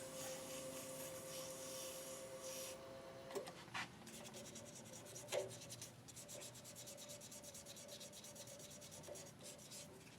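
Rubbing, scratchy sanding with 1000 grit sandpaper inside the handle of a shaving brush, a steady close friction sound that runs through with a few brief louder scrapes and knocks, no voices.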